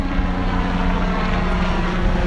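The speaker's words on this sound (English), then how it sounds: "have a helicopter." Aircraft engine droning overhead in a steady, continuous rumble with a buzzing propeller-like tone, loud and even throughout with no voices.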